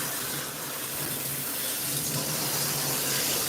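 Steady rush of running water from a tap or shower sprayer rinsing shampoo out of a poodle's coat during grooming, continuous and close with no pauses or voices.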